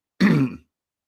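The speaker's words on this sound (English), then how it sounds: "I'm going to cough, clear my throat." A single short, gruff throat-clear with a cough-like burst, close and loud, lasting about half a second before silence.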